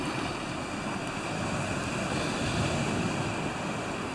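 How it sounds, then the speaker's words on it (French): Steady ocean surf washes continuously with broadband roar and a touch of wind, loud and unbroken, with no voices. "C'est beau le bruit, hein, des vagues."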